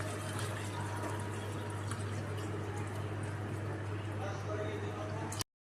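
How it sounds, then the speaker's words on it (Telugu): Water poured into a pan of softened, cooked-down tomatoes for tomato rice, a steady, continuous splashing pour that runs for about five seconds over a low hum before stopping abruptly. "ఎప్పుడు నీళ్ళు వేసుకోండి."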